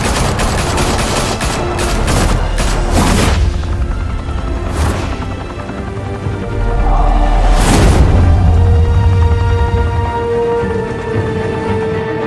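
Heavy gunfire erupts in a shootout in the Batman: The Telltale Series game on PS4, a loud rapid fusillade of shots and booming blasts with sharp bursts near the start and middle, rumbling on continuously without speech.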